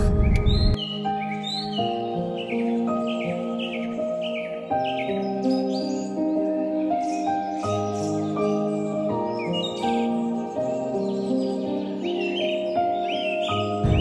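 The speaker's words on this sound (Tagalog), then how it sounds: "Na maririnig yung mga ibon na kumakanta, nag-chirp." Bright bird calls and chirps scattered over a steady tonal background in Sarasota, Florida, several short tweets repeating through the whole stretch at moderate distance.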